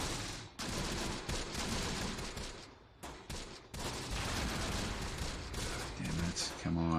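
Gunfire from the video game Close Combat: The Bloody First: dense, continuous volleys of rifle and machine-gun fire crackle and pop in overlapping bursts, loud and sustained throughout.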